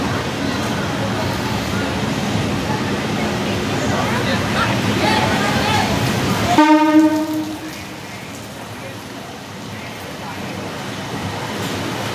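The SMVT Bengaluru–Malda Town train rumbles loudly at a crowded station, then a single long blast of its horn cuts in, and the train noise continues after.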